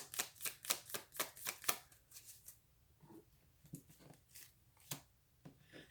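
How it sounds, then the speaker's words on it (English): Tarot cards riffle in a quick run of crisp snapping flicks, followed by softer, scattered shuffling and taps, quiet and close. "I should have said something when I was shuffling these cards in particular."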